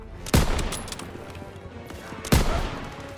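Gunfire in the World War II shooter game Call of Duty: WWII comes as two sharp, loud bursts about two seconds apart, each followed by a rumbling decay. No voices are heard.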